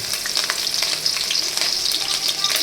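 Mustard seeds and green chillies fry in hot oil, a steady loud crackling sizzle with sharp pops scattered throughout, close up and with no voices.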